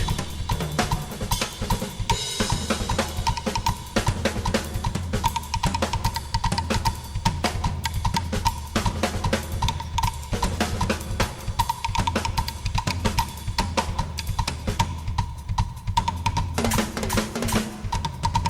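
Dense, fast drumming by a 14-year-old drummer on a drum kit, with rapid hard hits and crashing cymbals filling the whole stretch, loud and continuous, with no talking.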